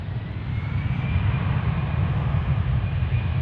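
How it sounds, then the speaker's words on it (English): Boeing 787 Dreamliner airliner at DFW airport, a steady, loud broadband engine roar with deep low rumble holding constant throughout, no talk over it. "we got a Dreamliner in the house"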